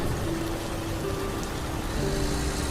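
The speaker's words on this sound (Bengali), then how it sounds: "যা জোরে বৃষ্টি শুরু হয়েছে, আর এগোনো যাবে না।" A steady downpour of heavy rain on a truck journey, a dense even hiss of falling water with a faint low hum underneath and no voices.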